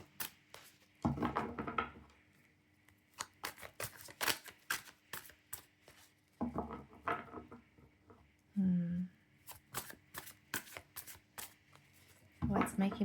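Playing cards are shuffled in several bursts of crisp riffling and tapping, close up, with brief pauses and a faint voice in between.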